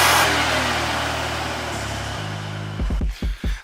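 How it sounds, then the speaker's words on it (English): JDM car with its muffler removed, exhaust roaring loudly at a steady high rev, dropping in pitch in steps, then a few sharp blips of the throttle at the end. "I'll get a little exhaust clip of it real quick."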